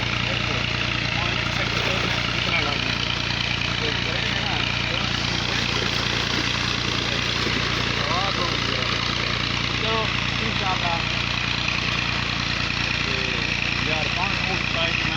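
A tractor engine runs steadily and loudly throughout, a continuous mid-pitched rumble with faint background voices beneath it.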